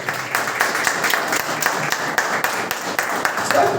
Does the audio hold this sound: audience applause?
yes